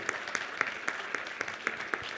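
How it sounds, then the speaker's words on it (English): Audience applause for panelists at an EV ecosystem conference panel, heard as sparse, distinct claps spaced fairly evenly, like a small group clapping in a large room, moderately quiet with no talking. "Please applaud loudly."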